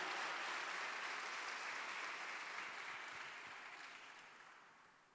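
A church congregation applauds in a sustained, dense wash of clapping that holds steady and then gradually fades toward the end, with no voices over it.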